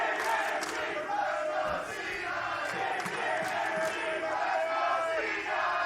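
A large crowd at a League of Legends esports match roars and cheers continuously, a dense wall of voices with scattered shouts rising above it, loud and sustained throughout.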